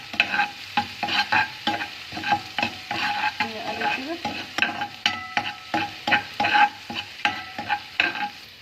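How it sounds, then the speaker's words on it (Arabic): Onions frying in oil in a pan while a spoon stirs them in quick repeated scrapes, with steady sizzling underneath, close and clear. "نقلب فيه كده"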